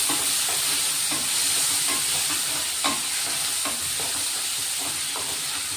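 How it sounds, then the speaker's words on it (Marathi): Onions and tomatoes sizzle steadily in a frying pan for a bitter gourd curry, with a constant hiss broken by scattered spoon scrapes and taps as the mixture is stirred; no one talks. "कांदे चांगले परतून झालेत, आपण आता टोमॅटो टाकून घेऊ"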